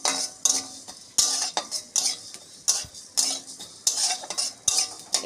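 Whole fennel, coriander and cumin seeds are stirred and scraped in an empty dry pan, a kadai, while being roasted for a sweet mango pickle. Repeated rhythmic scraping strokes sound close and clear, with no voices.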